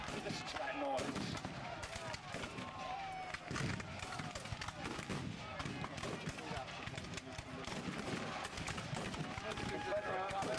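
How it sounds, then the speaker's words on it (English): Rifled artillery at an American Civil War reenactment at Kirby Hall fires as distant booms from a hill, mixed with crackling musket fire and crowd noise, all under a loud, continuous outdoor wash. "the Union artillery is a long way off on that hill, because they're rifled guns"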